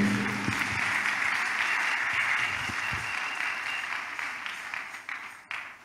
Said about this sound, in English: People of God, clap for the Lord once again.